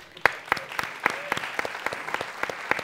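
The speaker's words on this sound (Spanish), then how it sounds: "Un aplauso." Sparse applause from a small audience at a live talk show, a handful of separate claps and short bursts spaced irregularly across a quiet, roomy background, with no one speaking.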